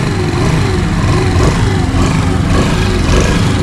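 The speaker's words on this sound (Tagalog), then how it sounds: "Medyo tatasan ko ng konti yung rev guys para mapakinggan nyo talaga" A 2024 Suzuki Smash 115 motor scooter engine runs steadily close by, a low quiet buzzing drone with a slight rise in revs and no voices.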